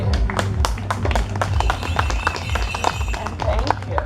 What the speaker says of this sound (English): Let me applaud you.